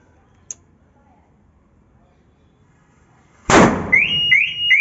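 A single sharp firecracker pop near a parked car, followed a few seconds later by the car's alarm blaring loudly in repeating rising-tone cycles.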